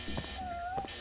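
A cat meows in the video game Judge Eyes, a short rising-and-falling tonal call that sits over a steady background hum of game ambience, fairly faint and heard alone.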